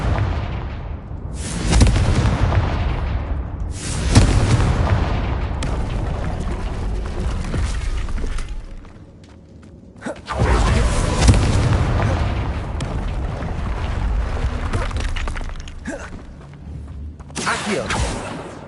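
Confringo fire spell blasts in the Hogwarts Legacy video game, a series of heavy booming explosions with rumbling tails, several loud bursts separated by short lulls.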